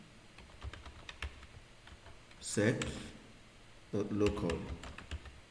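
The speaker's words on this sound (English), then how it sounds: "I think I can just type it back up" Computer keyboard keys tapped in short bursts during a cybersecurity exercise, quiet clicks running under a man's speech that fills the middle and end.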